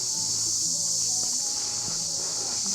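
Insects chirp outdoors at Rajgad fort near Pune in a steady, high, shimmering drone that never breaks, with faint low rustles beneath.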